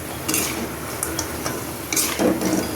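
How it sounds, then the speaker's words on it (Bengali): A utensil stirs gaja dough in a frying pan until it turns crispy, a close soft scraping and clinking of metal against the pan over a light sizzle, in uneven strokes. "দেখেন, এরকম নাড়তে থাকতে হয়, তাহলে এটা হয়ে যাবে আপনার, ক্রিস্পি হয়ে যাবে আস্তে আস্তে"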